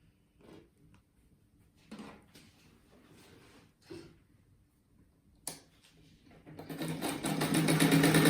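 A sewing machine starts up near the end and runs loudly and steadily as it stitches a pineapple-pattern rug, after quieter handling noises and light taps.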